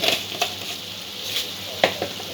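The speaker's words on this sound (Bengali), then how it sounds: "সবকিছু একটু ভালো করে নাড়াচাড়া করে নেব।" Chicken curry ingredients for a creamy white-sauce gravy get stirred in a pan, a soft steady sizzle with a few light spoon taps and scrapes, close and fairly quiet, no talking.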